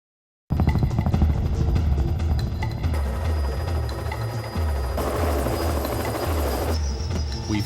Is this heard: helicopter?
yes